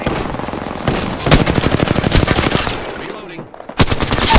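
Rapid automatic weapon fire in the battle royale game Apex Legends, long close bursts of shots with short pauses, then more bursts after a brief gap, with voices calling out between.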